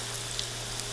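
Battered fish pakora fries in hot oil over moderate heat, a dense steady sizzle with small crackling pops, close and continuous throughout the short moment.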